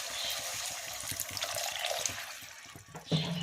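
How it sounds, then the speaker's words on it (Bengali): Water poured into chili chicken gravy in a pan makes a steady splashing pour with light bubbling throughout, finishing with a brief louder splash. "এরপর আমি এর মধ্যে একটুখানি জাস্ট জল অ্যাড করব।"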